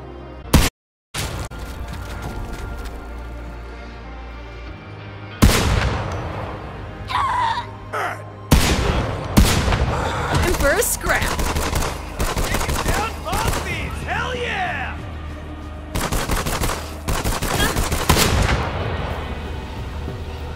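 Repeated gunfire in the shooter game Borderlands 3, loud bursts and single shots with brief pauses, against a steady game background.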